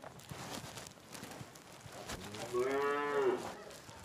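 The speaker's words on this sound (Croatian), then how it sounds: "Pričam s kravama." A cow in a barn gives one drawn-out, close moo near the end, following scattered shuffling and stall noises.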